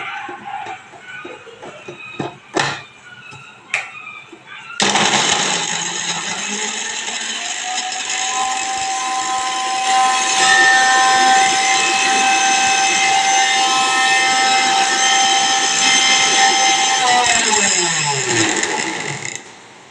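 After some light clattering, an electric mixer grinder whirs loudly and steadily for about fourteen seconds, grinding a coriander paste for chicken curry, then winds down as the motor spins to a stop.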